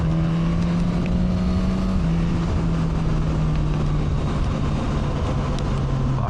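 A Suzuki GSX S1000 motorcycle rides along country roads, its engine a loud, steady, droning hum that shifts pitch slightly as speed changes, with heavy wind rush throughout and no talking.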